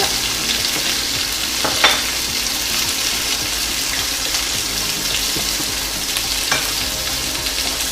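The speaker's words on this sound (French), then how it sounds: "Je vais ajouter maintenant le gingembre, l'ail." Ginger and garlic frying in a pan for a Chinese chicken and egg soup, a loud continuous hiss of sizzling oil with a few sharp stirring scrapes, close up and without voices.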